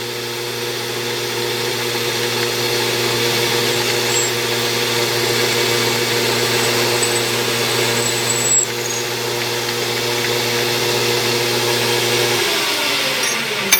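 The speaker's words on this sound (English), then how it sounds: "I'm just going to spot drill it with a big 1/2-inch spot drill here." A CNC lathe hums and whines steadily at about 1200 RPM as a 1/2-inch spot drill cuts into a metal spindle pulley, then the spindle motor winds down near the end.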